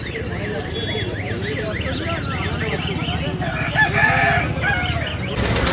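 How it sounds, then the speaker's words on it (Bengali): Native roosters crow repeatedly amid a busy weekly poultry market at Uluberia, the calls overlapping with clucking birds and a steady crowd murmur of voices close by. "এখানে দেখতে পাচ্ছেন দেশি মোরগ আছে"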